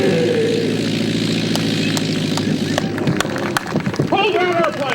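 A tailwheel propeller airplane at an airshow drones loudly with a throbbing engine hum, then thumps and rattles as it touches down, with shouting voices breaking in toward the end.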